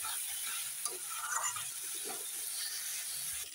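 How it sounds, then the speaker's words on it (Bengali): Masala with potatoes and tomato being stirred and fried in a pan, a steady soft sizzle with occasional scraping stir strokes, close and fairly quiet, with no talk. "মশলাটা প্রায় কষানো হয়ে গেছে, আর একটু কষিয়ে নেবো"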